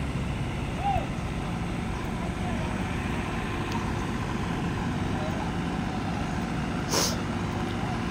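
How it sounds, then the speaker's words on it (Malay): Two tow trucks strain to pull an overturned lorry, their engines a steady low drone with a brief hissing release partway through, while people talk nearby. "Towing tengah tarik lori terbalik."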